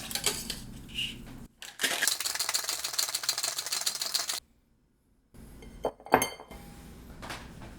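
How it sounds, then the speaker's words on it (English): Ice and metal cocktail tools for a margarita clatter and rattle close by, a busy run of clinks and scrapes that stops for about a second. Sharper knocks and jingles follow before it fades out. "I'm going to grab some new ice and clean out that bit of lime"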